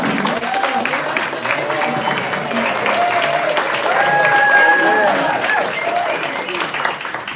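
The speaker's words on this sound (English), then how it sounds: "just give them a round of applause" Steady applause from a group of people, sustained and fairly loud throughout, with voices and chatter mixed in underneath.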